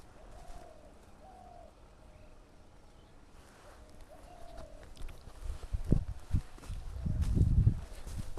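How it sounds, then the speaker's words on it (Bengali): A flock of yellow-footed green pigeons gives a few faint, soft whistled calls early on in a quiet wintry outdoor setting, followed later by nearer rustling and handling noises. "সবুজ পায়রা green pigeon yellow food green pigeon এক ঝাঁক এখানে বসে আছে"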